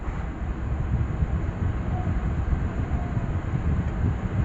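A turbo electric fan running after a repair that added a pin to its shaft, giving a steady, fairly loud whooshing drone of moving air with a low rumbling hum, continuous and even, with no voices.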